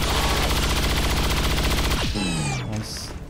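Gunfire from a soldier's weapon in XCOM 2: War of the Chosen, a dense loud burst of rapid shots that cuts off abruptly, followed by descending whooshing and whistling game effects, with no talk.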